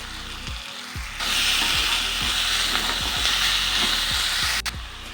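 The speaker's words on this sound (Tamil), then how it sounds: "நல்லா ஃப்ரை ஆகிடுச்சு உருளைக்கிழங்கு." Potatoes fry in oil in a pan for paneer bread biryani, giving a steady close sizzle with a few soft knocks and scrapes of stirring.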